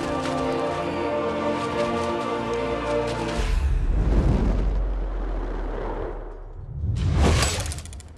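A sustained tone cuts off into a massive roaring explosion in The Rings of Power season two, with deep rumble and crackling debris, followed by a second loud whooshing burst.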